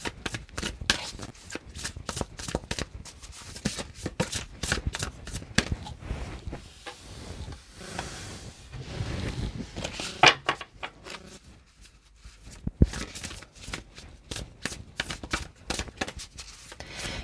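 A deck of cards being shuffled before one is drawn, with quick rapid riffles and bursts of flicking, close and fairly quiet, broken by a short pause.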